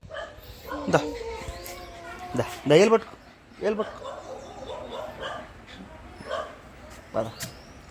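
A dog barks and whines in short bursts, with people talking nearby and some background bustle.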